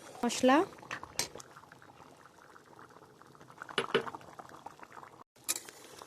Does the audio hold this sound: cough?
no